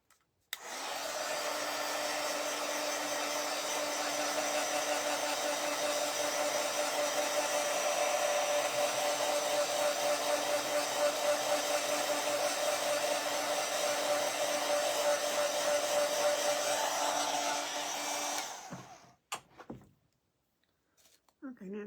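A hair dryer blows steadily and loudly, close by, drying craft paint on a Christmas bottle, running for about eighteen seconds before switching off, followed by a few faint handling sounds.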